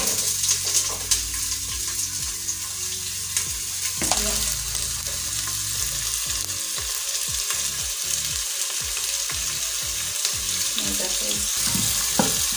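Onions sizzle steadily as they sauté in the pot of an electric pressure cooker, with occasional scraping stirs and small clatters over a constant frying hiss; no one speaks.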